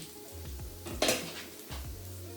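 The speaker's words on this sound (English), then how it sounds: "So we're gonna saute the garlic." Garlic sautéing in a pan over medium heat: a few dull metallic knocks and scrapes of a utensil against cookware, one brighter clatter in the middle, over a low sizzle.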